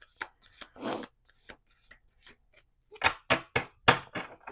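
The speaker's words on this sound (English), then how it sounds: "So typically I will just shuffle like half the deck at a time." Half a deck of playing cards riffle-shuffled by hand, a few soft flutters followed by a quick run of sharp, close card riffles, quiet and with no talk.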